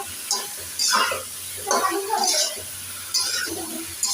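Pointed gourd, eggplant and taro with hilsa fish and spices fry in a pan, with soft sizzling and scraping stir strokes coming in short bursts while someone talks over the cooking.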